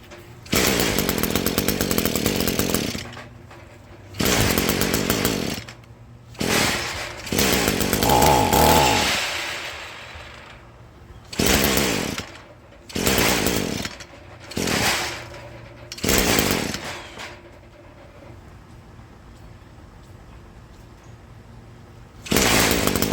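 An Echo weed eater's small two-stroke engine that hasn't run in a while revs in loud repeated bursts, dropping back to a low idle between throttle blips, close to the listener.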